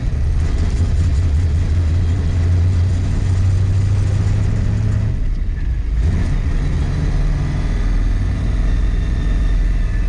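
A 1966 Mustang with a new 347 stroker engine runs rough, droning loud and steady from inside the car. There is a short dip in the middle before the engine noise picks back up.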